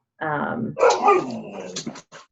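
Dogs being let out a door make a short run of barks, yips and whimpers at close range, loud and uneven, with no talk heard.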